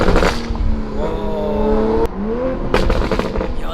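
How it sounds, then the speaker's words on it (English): A 2020 Toyota Supra fitted with a downpipe exhaust accelerates on a drive, its loud engine note rising through rapid gear pulls with sharp crackles and pops, while someone briefly exclaims over it. "We are now going to do a quick test drive with the Supra, see what it sounds like with the downpipe"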